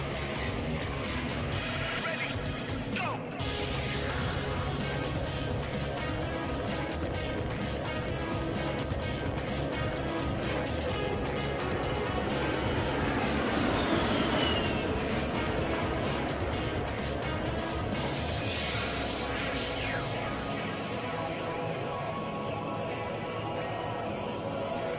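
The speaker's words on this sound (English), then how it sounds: "Major Brown is now repositioning his aircraft to perform a level 360-degree high G turn." An A-10 aircraft flying a level 360-degree high G turn at an airshow, a steady loud jet roar that holds for the whole stretch and swells in the middle, with no break.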